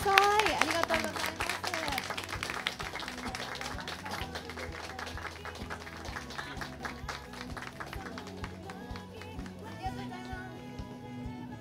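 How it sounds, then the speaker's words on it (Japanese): Audience applause after a concert by a piano trio, moderate, steady clapping from a small crowd that thins slightly toward the end, with a voice speaking over it. "大きな拍手でお送りください。"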